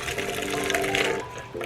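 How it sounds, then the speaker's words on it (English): A thick sauce for mango habanero wings pours steadily into a blender, a continuous wet rushing close by that briefly falters near the end. "I'm just going to pour my sauce into my blender."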